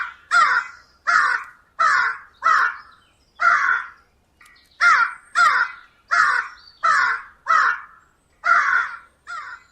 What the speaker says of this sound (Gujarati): પપ્પુ કાગડાનો સતત અવાજ સાંભળીને વાઘ અટકી ગયો.